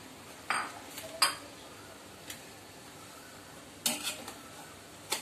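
A spoon stirs grated coconut in a pan over low heat for coconut barfi, giving sparse, faint clinks and scrapes of metal on the pan at irregular intervals in a quiet kitchen.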